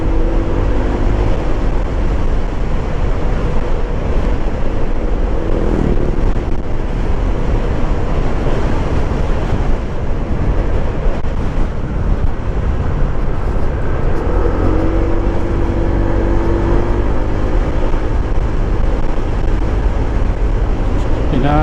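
A Honda ADV160 scooter rides along a road, its steady engine drone mixed with heavy wind buffeting the microphone, loud and constant from start to finish.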